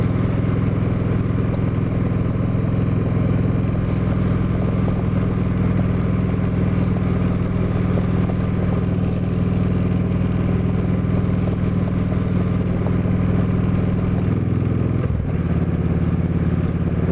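A Kawasaki Vulcan Vaquero bagger motorcycle's engine heard while riding through town: a loud, continuous low drone with wind rush, holding steady before a brief shift in tone near the end, with no talking.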